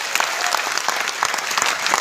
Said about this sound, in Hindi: अभी आप सुनने के बाद इमीडिएटली ताली बजाई